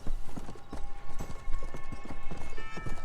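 Horse hooves in a video game: a steady, rapid clip-clop of hoofbeats up close, with a whinny mixed in over a busy game background.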